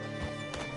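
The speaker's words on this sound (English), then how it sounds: "Hitch your horse up here." Horse hooves clip-clop in Red Dead Redemption 2, a few quick hoofbeats over a steady background of game ambience, moderately quiet and lasting under a second.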